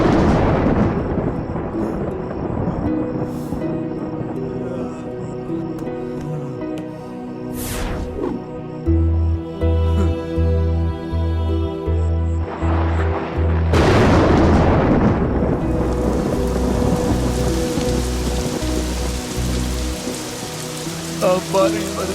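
Heavy rain pours steadily while thunder booms and rumbles loudly twice, with deep crashing strikes and rolling aftershocks over the constant downpour, in a dramatic horror-film scene.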